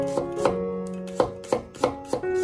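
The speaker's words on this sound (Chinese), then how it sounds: "再准备一些大蒜，给它切成蒜片" A kitchen knife slicing garlic into thin pieces on a cutting board gives a handful of crisp, irregular taps close to the listener, with no voices.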